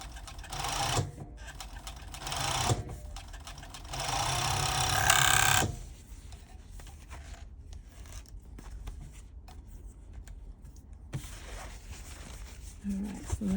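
An overlock machine sewing a closed seam whirs in loud, rapid bursts for the first few seconds, then stops, leaving quieter handling noise and faint activity.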